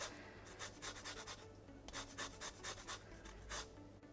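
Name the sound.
zesting an unwaxed lemon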